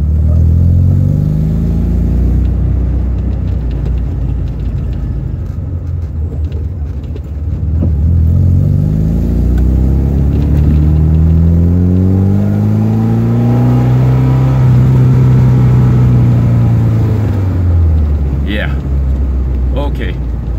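A 1979 Alfa Romeo Alfetta 2.0 on an evening drive, its engine droning steadily up close and rising and falling through gear changes, with a brief clear rev toward the end and someone speaking over it.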